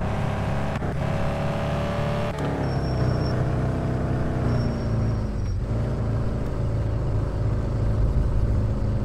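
A game car, a Ferrari, drives with a steady engine drone and low rumble throughout, shifting pitch slightly as it moves, with no talk over it.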